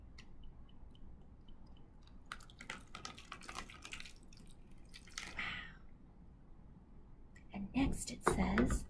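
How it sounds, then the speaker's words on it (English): Liquid from a corked bottle is poured into a pretend cauldron, a close, wet splashing and trickling that builds for a few seconds, with a voice speaking around it. "I'm gonna pour it into my pretend cauldron"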